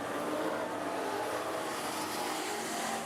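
AMCA race cars at Rockhampton Speedway roar past in a steady, continuous engine drone with a broad rushing noise, moderately loud throughout with no distinct breaks.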